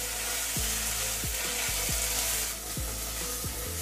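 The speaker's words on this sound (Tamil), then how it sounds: "இந்த 2 நிமிஷம் இந்த ஆயிலே வதக்கிக்கலாம்" Drumstick leaves sautéing in hot oil, a continuous sizzle with a series of sharp, evenly spaced scraping strokes from a spatula against the pan, close and steady.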